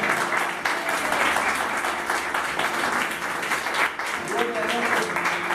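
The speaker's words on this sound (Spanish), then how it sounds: "Ella es la única que se anima a aplaudir al Señor." Dense applause fills the room, many hands clapping continuously, with a voice speaking over it.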